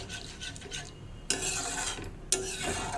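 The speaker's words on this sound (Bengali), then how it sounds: "এটা এখন ফুটতে থাকবে" Papaya chutney in a pan with rasgulla syrup added, bubbling and simmering with a steady close rasp, broken by two louder stirring scrapes.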